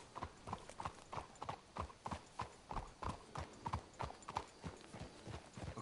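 Horse hooves clip-clop in a steady, even walking rhythm in Red Dead Redemption 2, each close, crisp step clearly separated, with no talk over them.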